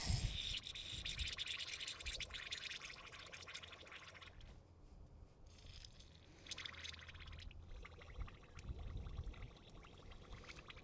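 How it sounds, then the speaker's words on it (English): Brake cleaner pours into the carburetor of a 1960 Triumph Herald as a steady, faint liquid hiss and trickle lasting about ten seconds, with no talking. "I'm just going to fill this with brake cleaner."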